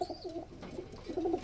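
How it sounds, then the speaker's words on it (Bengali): A male Giribaz pigeon coos in a close, low, rolling burst that pauses briefly and then swells again, clear and alone. "খুবই ডাকের কবুতর"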